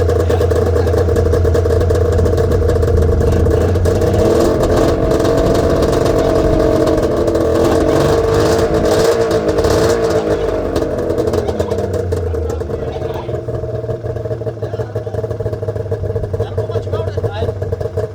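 A 2026 Ski-Doo Summit X with Expert Package 850 HCR triple-cylinder snowmobile engine idles steadily with a low, even rumble, people talking over it, the engine note settling and quieting toward the end.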